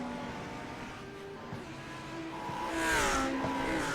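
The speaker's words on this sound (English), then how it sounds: "As you hear those two Lamborghinis at the front, Drew Warren, Brian Mansfield, very close to" Lamborghini GT3 race cars running close together at the Roval, the engine note rising and swelling as they pass near, with a bright high-pitched whine building toward the end.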